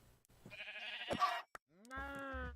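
A video game sheep bleats twice, short wavering cries close and clear against a quiet background, separated by a brief click.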